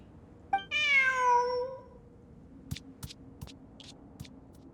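A cat meows once in a video game, a clear drawn-out cry heard close and alone, followed by a few soft clicks and taps.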